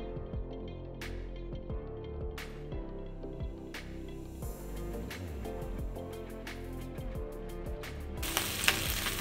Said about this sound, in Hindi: सिर्फ इसको मेरे कलर चेंज करने के लिए हल्का सा फ्राई करें